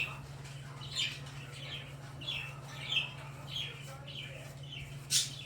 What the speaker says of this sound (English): Hear the birds going crazy in the background.